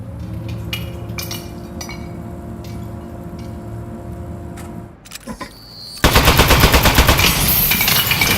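A turret in the game Aperture Desk Job clatters and clinks for several seconds, then bursts into a loud, dense, continuous stream of rapid gunfire, close and alone.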